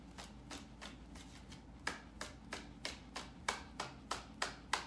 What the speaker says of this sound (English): Let me get a couple more cards out.